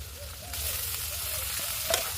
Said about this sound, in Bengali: মাংসটা একটু ভেজে নেব।